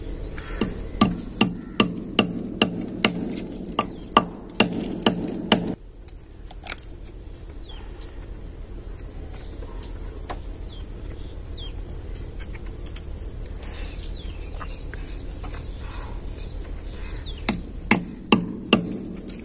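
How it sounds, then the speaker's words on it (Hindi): Nail hammered into an outside house wall while mounting a 9 W LED outdoor light: a quick run of sharp, evenly spaced hammer blows, a pause with steady insect chirring behind, then a few more strikes at the end. "अब यहां पे कील ठोक देंगे"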